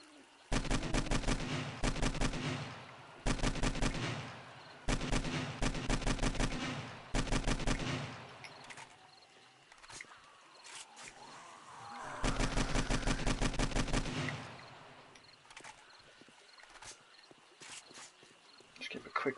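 Repeated bursts of rapid gunfire from weapons in the 7 Days to Die survival game on PS4 come in loud volleys of several seconds each, separated by quieter gaps with footsteps and ambient game noise.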